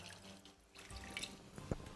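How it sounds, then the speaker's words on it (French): Water is poured into a simmering curry sauce for a Mauritian jackfruit dish, giving a soft, close trickle and splash with small bubbling sounds. "vous pouvez ajouter un petit peu de l'eau."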